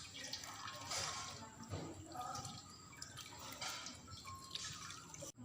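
Hands being rinsed under a running tap during a hemoglobin and urine protein testing procedure, with steady splashing and dripping water close by throughout, the flow rising and easing a few times.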